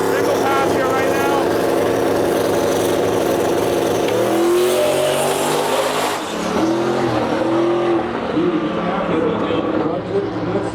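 A no-prep drag race car at a Western Canadian no-prep shootout roars through a single pass, its loud engine note shifting and revving as it accelerates down the strip, with crowd chatter and a voice underneath.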